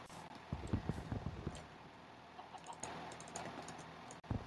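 Fast, irregular clicking of a computer keyboard being typed on close by, with bursts of keystrokes, a brief pause, then more scattered taps.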